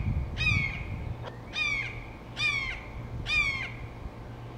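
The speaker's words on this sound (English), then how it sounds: "I heard 2 red-shouldered hawks fighting over a piece of food and ran to go film it" Two red-shouldered hawks call outdoors while fighting over a piece of food, giving four loud, harsh descending screams spaced about a second apart over faint background noise.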